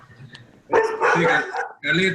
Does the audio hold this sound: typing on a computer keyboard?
no